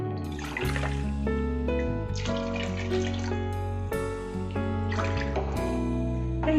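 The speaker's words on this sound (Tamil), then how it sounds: "இதுக்கப்புறம் தண்ணி ஊற்றிக்கலாம்." Water poured from a tumbler into coconut milk, a steady splashing, gurgling stream with several distinct pours in sequence, close and clear with no talking.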